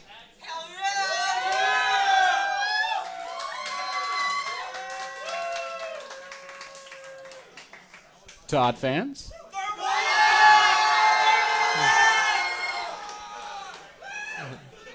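Crowd at a live esports StarCraft II show match, cheering, shouting and whooping loudly in two big bursts, with a clear pause between them where a caster speaks.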